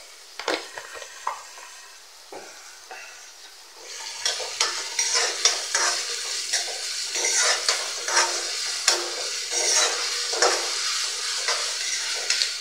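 Onions fry with salt in a pan for mutton curry, quiet at first, then a busy sizzle with frequent sharp clinks and scrapes of a spoon against metal as they are stirred.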